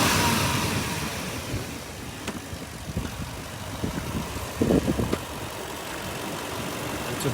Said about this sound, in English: We go ahead and rev the vehicle.